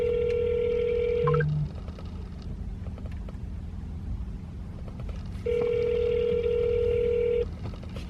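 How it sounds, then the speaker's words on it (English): A phone call to Dunkin' begins with a quick burst of dialing tones, followed by two long ringback tones separated by a pause, clear and steady over low background hum. "I have to call back over and over and over to get them to answer the phone sometimes."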